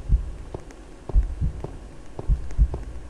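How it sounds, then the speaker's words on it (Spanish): Heartbeat pulses in the Roblox horror game The Asylum, a low, throbbing double thump repeating about four times at a steady pace, heavy and close with a faint hum underneath. "Y luego se escuchan los latidos"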